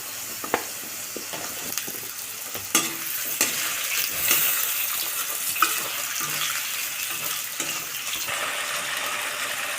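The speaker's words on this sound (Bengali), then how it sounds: "আলু কটা আগে ভেজে নেব" Potatoes frying in hot oil in a pan over onion and garlic, a steady close sizzle broken by scraping stirs and small clatters, no talking.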